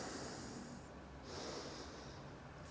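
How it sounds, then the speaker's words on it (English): Slow, deep breaths drawn in and let out through the nose during a core and back exercise, two long airy swells close to the mic and faint, with no talking. "you want to breathe slowly through your nose, and we're just going to go deep breathing"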